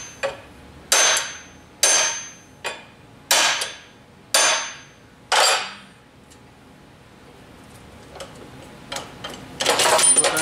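A crankshaft being straightened takes six sharp, evenly spaced metal whacks in quick succession, each ringing off briefly, followed by quieter clinks and handling noises.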